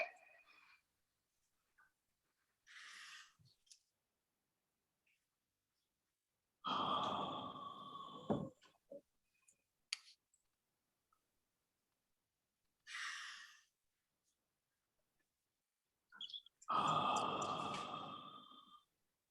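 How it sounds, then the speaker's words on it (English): Deep abdominal breaths in and out, slow and close, each long airy inhale or exhale separated by several seconds of silence, four main breaths in all. "When you breathe in, your stomach should go out, deep abdominal breathing."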